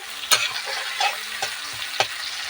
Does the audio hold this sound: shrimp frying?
yes